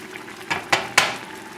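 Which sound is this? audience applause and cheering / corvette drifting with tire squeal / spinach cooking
spinach cooking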